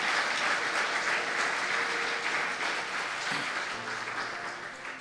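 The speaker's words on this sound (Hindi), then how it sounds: "जोरदार तालियां खुदावंद यीशु मसीह के लिए" Loud, sustained applause from a church congregation after a sermon, a steady dense clapping wash that holds throughout and tapers slightly at the end.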